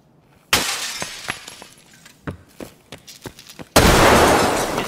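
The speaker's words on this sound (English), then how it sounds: "He threw a grenade in my room, dude." A grenade lobbed through a window in a video game sends glass crashing loudly, followed by scattered clinks and thuds of falling shards, then a second heavy burst of shattering and blast noise near the end.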